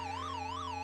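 In the Chase H.Q. video game, a police car siren wails in a fast, continuous up-and-down electronic sweep, loud and steady over a low engine hum.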